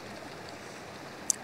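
A small waterfall on a Toubkal mountain trail flows in a steady, soft rush of water, constant and unbroken, with one brief click near the end.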